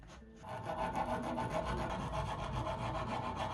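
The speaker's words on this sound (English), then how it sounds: "scrape off the rust by hand with a wood file" A wood file scrapes rust off a vintage steel yacht hull in fast, even rasping strokes, loud and close, continuing steadily without pause after a brief quiet start.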